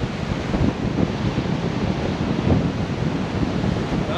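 Waves wash continuously onto an eroded North Sea beach on Norderney, a broad steady roar of surf mixed with wind buffeting the microphone, loud and close, with no voices.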